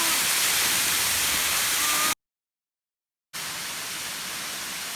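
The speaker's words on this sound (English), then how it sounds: "There's your waterfall." Dense, steady roar of a waterfall on a hike, heard close and loud, cut by a brief silent gap before the rushing water resumes.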